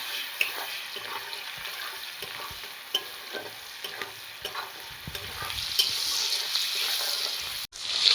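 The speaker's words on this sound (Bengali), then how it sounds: "পেঁয়াজটাকে একটু লাল করে ভেজে নেব।" Chopped onions fry in a pan, giving a close, steady sizzle broken by scraping and stirring clatter, growing louder near the end and capped by a sharp clack.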